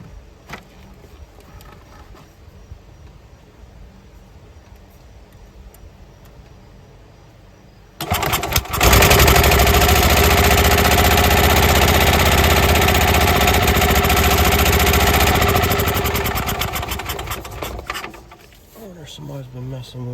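Small gasoline golf cart engine with a newly installed intake adapter, quiet idle for about eight seconds, then a loud sustained run at throttle for roughly eight seconds before easing off, with talk near the end.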